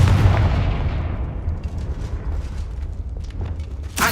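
A Confringo blast spell in the Hogwarts video game erupts as a loud booming explosion that rumbles and decays over several seconds, followed by a sharp burst near the end.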